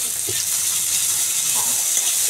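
Chopped onion sizzles loudly in a pan while being stirred: a dense, steady hiss of frying with a few soft scraping touches, close up, and no talk.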